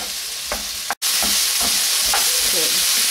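Half-cooked potato and frozen mixed vegetables are stirred in a sizzling pan, with a steady loud fry hiss, repeated scraping strokes of the spoon and a brief dropout near the start.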